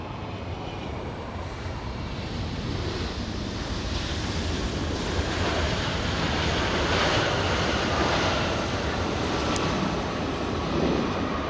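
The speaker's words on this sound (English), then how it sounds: "I think we have Alaska Airlines taxiing to the runway." An Alaska Airlines plane taxiing at LAX airport, a continuous broad engine roar and rushing whine that holds steady and swells a little midway, heard from a distance outdoors without any talking.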